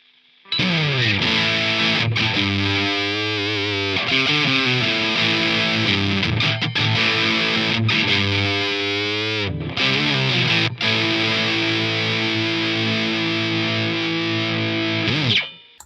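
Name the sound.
electric guitar through overdrive pedal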